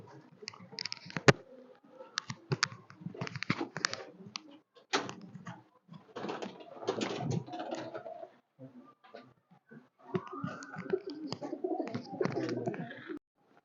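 Breeding pairs of pigeons coo in a loft, soft repeated throaty coos and rolling calls in uneven bursts, close by, with a sharp click or tap early on and quiet gaps between.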